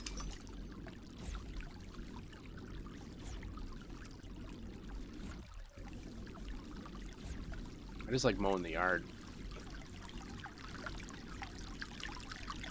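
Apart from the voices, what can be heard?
creek water trickling sound effect in a video game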